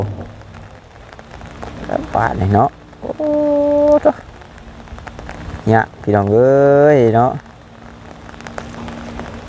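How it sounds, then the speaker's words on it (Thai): Steady rain patters on surfaces throughout a rural visit. People talk loudly over it, with a few long calls in between. "ฝนก็เริ่มตกมาอีกเลย"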